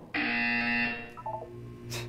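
A harsh electronic buzzer from the video game Portal 2 sounds once for about a second, loud and alone, followed by a few brief soft electronic tones.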